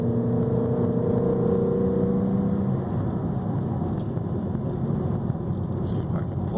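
A 2014 Honda Accord Sport four-cylinder engine with a K&N intake hums steadily from inside the moving car, with road rumble throughout and a faint voice in the background.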